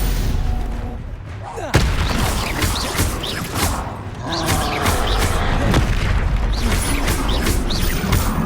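Repeated Confringo fire-spell blasts from Hogwarts Legacy boom through continuous combat noise, one sharp impact standing out early, with heavy rumbling bursts and clattering debris filling the rest, and a voice calling out over the din.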